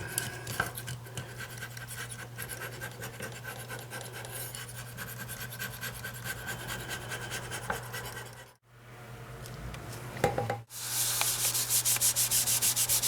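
A scraper works steadily across a bathroom sink countertop, lifting off putty and soap scum. The rasping rub is continuous, close and fairly loud, broken by a couple of brief pauses near the end.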